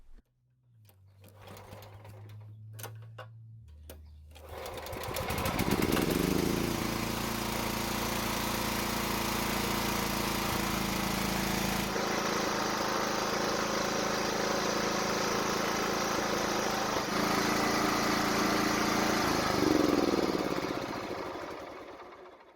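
A small engine, freshly adjusted, is pulled a few times, catches and starts, then runs steadily with a buzzing idle and a brief rev near the end.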